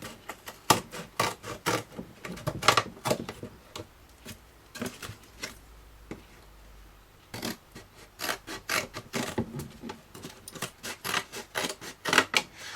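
Scissors snip steadily through a cardboard juice carton, giving a series of crisp, close cuts with a short pause midway and no talk.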